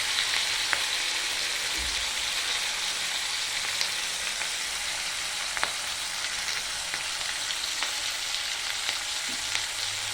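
Steady, even sizzle of red chilli powder and spices frying in oil in a pan for whole masoor dal, with occasional soft stirring clicks and no voices throughout.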